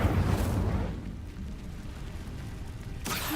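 Incendio fire spell in Hogwarts Legacy: a loud whooshing burst of flame at the start that fades into a low crackling rumble, then a second sharp flare near the end.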